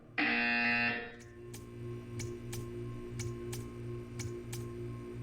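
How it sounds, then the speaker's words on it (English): A loud, harsh buzzer in Portal 2 blares for about a second, then cuts off, leaving a low steady hum and a string of evenly spaced metallic ticks. "You will hear a buzzer."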